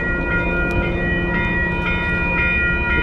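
MBTA commuter rail train at a noisy railroad crossing in West Concord, crossing bells clanging in a steady rhythm over the constant rumble of the train, loud and close.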